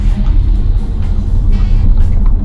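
A Toyota RAV4 PHV G Z plug-in hybrid SUV accelerates hard at full throttle, a loud, steady low drone and rumble heard from inside the cabin with no break.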